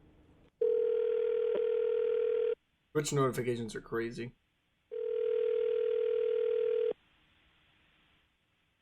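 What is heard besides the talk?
telephone dial tone while calling someone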